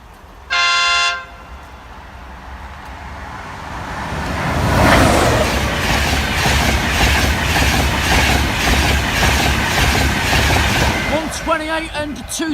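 A Class 82 set train at a level crossing sounds one loud, brief horn blast, then rumbles past with rising roar and rhythmic wheel clatter, the noise swelling and holding close before easing.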